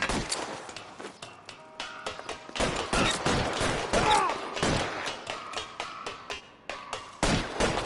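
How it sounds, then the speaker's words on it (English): Suppression gunfire in the L.A. Noire video game, with rapid bursts and single shots cracking out in irregular clusters over several seconds, close and loud, alongside mechanical clatter. "I'll lay down some suppression fire."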